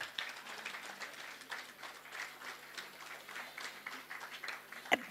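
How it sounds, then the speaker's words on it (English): An audience at a National Bank International Women's Day dinner claps quietly, with a soft, distant, uneven patter of applause throughout and one sharp knock near the end. "Let's keep clapping."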